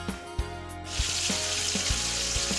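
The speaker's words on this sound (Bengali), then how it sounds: "মাছ ভাজা হচ্ছে" Fish frying in a pan, a steady bright hiss of hot oil running alone and close, with a few soft knocks early on before the sizzle swells.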